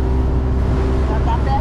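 A motorboat engine runs on a lake in a steady, close, droning hum, heard briefly and continuously with faint voices underneath.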